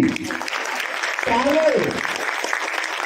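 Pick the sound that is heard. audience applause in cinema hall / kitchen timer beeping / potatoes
audience applause in cinema hall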